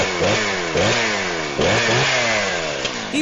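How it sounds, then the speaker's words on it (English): Stihl MS-171 chainsaw engine revving in repeated bursts, each climbing sharply in pitch then dropping back, loud and close with no other sounds. "Do you want a great sounding chainsaw like that?"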